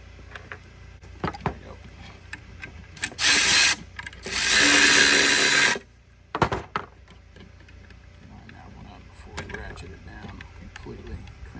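A ratchet cranks down a bolt during a horn upgrade on a Sprinter van, with scattered clicks and two longer, loud grinding runs of ratcheting close to the microphone.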